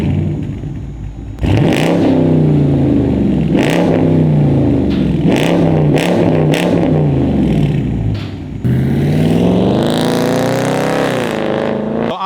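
A straight-piped Dodge Charger with a 5.7 V8 cranks to life in an exhaust shop and then roars loudly through repeated rising and falling revs, with a final hard blip near the end.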